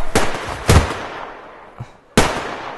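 Three loud, sharp bursts of gunfire in the video game Survarium with a punchy low-end kick, spaced irregularly, each ringing out briefly before a short quiet gap.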